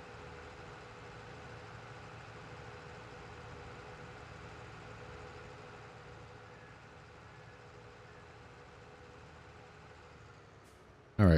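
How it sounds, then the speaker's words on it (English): JCB vehicle engine in Farming Simulator 22, a faint steady low drone of a driving machine, continuous and alone, ending with a brief sharp click. "JCB does move quite a bit faster than our other trailer or our other tractor."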